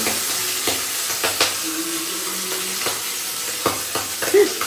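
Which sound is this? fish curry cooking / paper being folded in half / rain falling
fish curry cooking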